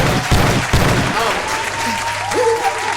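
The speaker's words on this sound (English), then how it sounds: "Hand claps. Hand claps." Audience at a live photography podcast show claps loudly, a dense burst of hand claps that fades after about a second, leaving room noise with a voice speaking underneath.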